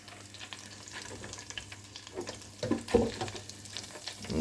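Scotch eggs lowered into a deep fryer bubble and sizzle in hot oil, a steady close crackle with a louder burst of spattering partway through.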